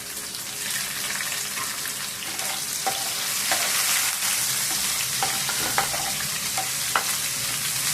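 Chopped onions sizzling in a pan with oil, a loud continuous fry punctuated by scraping stir strokes and occasional sharp ticks, nothing spoken over it.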